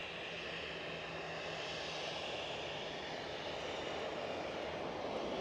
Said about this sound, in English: It's a Ryanair 737